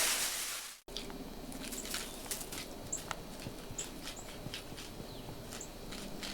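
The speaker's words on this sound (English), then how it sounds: "she sure is chewing up the lettuce stump" A jackrabbit chews a lettuce stump, making quick, faint crunchy bites that repeat steadily at close range with no voices.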